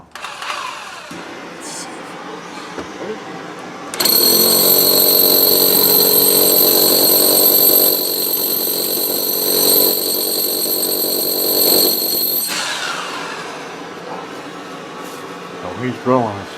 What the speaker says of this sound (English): So he's drilling his stuff there.